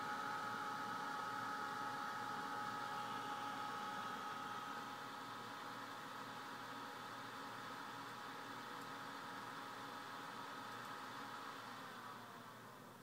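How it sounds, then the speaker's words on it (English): An NZXT 200mm case fan, 4.4 watts and ramping to 2300 RPM, runs at full power inside a computer case, giving a steady, soft, even airy whoosh that holds level throughout. "this 200 millimeter fan is whisper quiet at full power"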